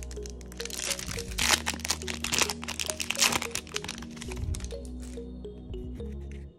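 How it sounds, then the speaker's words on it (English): Foil wrapper of a Yu-Gi-Oh Dimension of Chaos booster pack crinkles and tears open up close, a busy run of crackling, rustling handling noises that thins out near the end. "Let's go to open up Dimension of Chaos."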